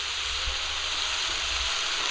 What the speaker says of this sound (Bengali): ফুলকপি আর আলু ভালো করে কষিয়ে নিয়েছি